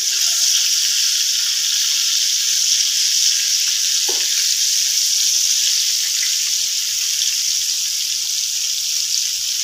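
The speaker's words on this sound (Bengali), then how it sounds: "একদম লো ফ্লেমে একটু সময় ধরে ভাজতে হবে" Steady close sizzle of food shallow-frying on a very low gas flame, a constant hiss running throughout with a brief soft clink partway through, and no voices.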